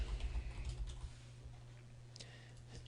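Soft keystrokes tap on a computer keyboard in a few quiet bursts as a property address is entered, with faint low background hum beneath.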